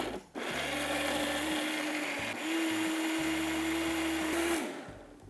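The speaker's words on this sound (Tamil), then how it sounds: "மூடி இவனை ஒரு பியூரி அரைங்க" A mixer grinder purees tomatoes with a loud, steady motor whine that runs in bursts with brief pauses, close up and without talk.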